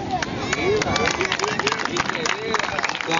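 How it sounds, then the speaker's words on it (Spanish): Applause from a crowd at a youth football tournament event in Vinces: dense, steady clapping that lasts throughout, with voices talking over it. "Aplausos."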